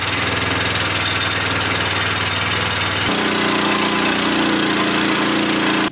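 A tractor engine idles close by with a steady rumble, its low chugging pulse shifting pitch slightly midway and running unbroken until it cuts off at the end.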